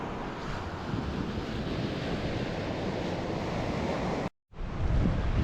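Waves break and roll on the sandy beach at Lunan Bay in Scotland, a loud, continuous roar of surf mixed with buffeting wind on the microphone, cut by a brief dropout near the end.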